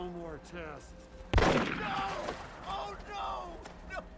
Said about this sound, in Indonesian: Mendengar tembakan tersebut